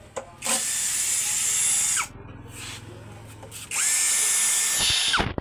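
A power drill unscrewing the screws of a BOWAY V 10.0 amplifier head whines in two loud bursts of about one and a half seconds each, close up, with a quieter pause between them.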